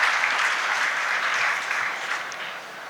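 An audience at a college freshers' welcome event claps steadily for about three seconds, a dense, close burst of applause with no talk over it, easing slightly toward the end.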